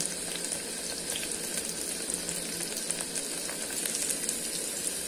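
Steady, loud sizzling of chopped garlic frying in hot oil in a pan, a continuous crackle with no talking.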